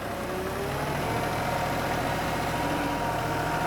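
A small tractor engine runs at a steady idle, a constant close rumble with no pauses and no talk.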